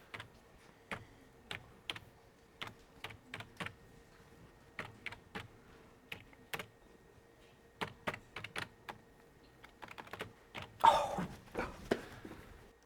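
Typing on a computer keyboard in a film scene: sparse, crisp key clicks in irregular bursts against near silence, some quick double taps, and a heavier clatter of several keys toward the end.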